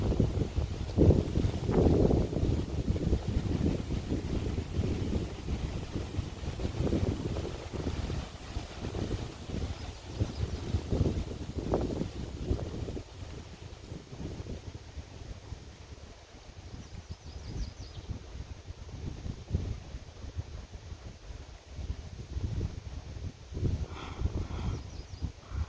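Outdoor wind rumbles steadily against the microphone in a low, gusting roar, heavier at first and easing somewhat in the middle, moderately loud with no speech over it.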